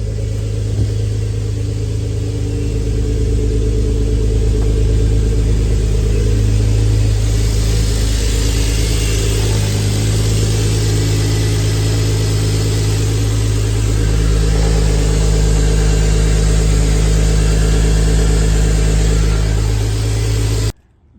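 A turbocharged BMW ZHP runs steadily just after a cold start, a loud, close, deep engine drone with a slight rise in pitch partway through and a faint turbo whine, ending abruptly.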